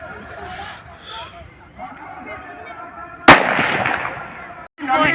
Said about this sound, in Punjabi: ਪਟਾਕੇ ਦਾ ਠਾ ਬੜਾ ਇਹਨਾਂ ਦਾ ਵੀ